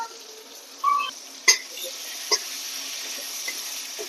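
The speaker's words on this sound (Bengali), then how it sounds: "মশলাটি নাড়াচাড়া করব" Ground spices such as chili and cumin frying in a pan while being stirred, with faint sizzling and a few sharp scrapes and clinks of the utensil against the pan, close and fairly quiet.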